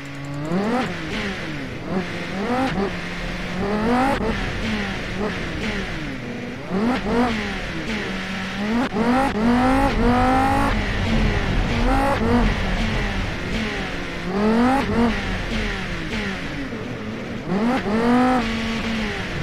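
A car from the game Automation laps a testing track, its engine revving up through the gears again and again in rising sweeps. Each shift gives a brief dip. The sound is loud and continuous, with no talking.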